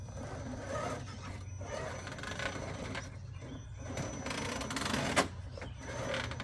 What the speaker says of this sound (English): And that tire rubbing.